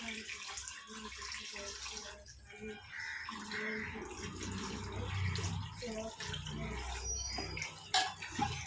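Tap water runs steadily while meat is washed at a home kitchen sink, a close splashing stream with faint clatter of handling and a brief sharp clink near the end.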